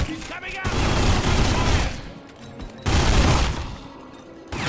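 Magnum pistol gunfire in The Godfather video game, loud dense bursts of shots that fill the first two seconds, pause briefly, then resume in a second heavy barrage.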